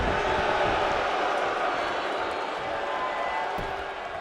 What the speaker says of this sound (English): Listen to the crowd here.